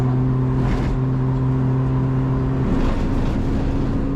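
A Citroen DS3 Cup race car drones steadily from inside the cockpit at Oulton Park, a loud, constant engine tone that shifts pitch slightly partway through.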